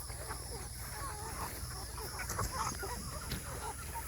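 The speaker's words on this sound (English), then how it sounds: "these are Cornish cross broilers" Cornish cross broiler chickens on a farm give a steady, close, dense chorus of peeping and soft clucking, with faint scattered sounds mixed in.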